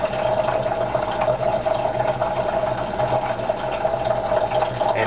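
Water runs steadily through a Sawyer Mini 0.1-micron hollow fiber membrane filter as a container fills, a continuous close trickling hiss with a faint tonal hum and no voices.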